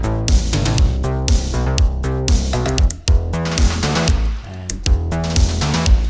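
Synthwave drum groove with layered drums and a punchy kick, snare and hats, looping steadily with synth tones underneath, loud and dense, with a couple of brief dropouts and no talking.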